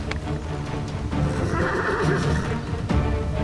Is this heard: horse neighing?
yes